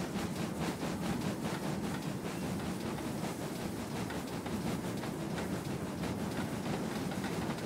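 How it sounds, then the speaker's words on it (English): A GWR Grange steam locomotive runs in a train simulator game, with a steady rumble and repeating chuffing beats in the background and no talking. "I'm driving a steam engine first."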